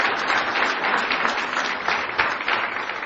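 Dense, continuous applause fills a church ministry gathering, loud and sustained throughout with no gaps, a steady wash of many hands clapping together.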